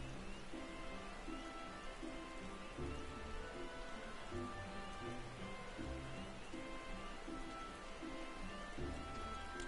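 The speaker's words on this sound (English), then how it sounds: "The dramatic rain should help out." Steady rain falls in Final Fantasy XIV, a dense even hiss of drops with a low rumbling undertone and faint musical tones running beneath it throughout.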